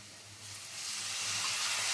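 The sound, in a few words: water added to frying flour, onion and garlic, sizzling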